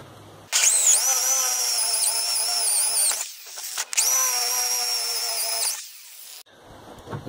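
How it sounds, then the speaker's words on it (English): A power drill whines loudly through two long bursts of about three and two seconds, boring holes into a scraper part of a Muller-style build, with a brief pause between runs and quiet after. "By drilling these holes slightly oversized"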